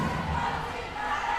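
A volleyball arena crowd chants together with their team's bench at a professional women's match, a dense, steady roar of many voices filling the hall.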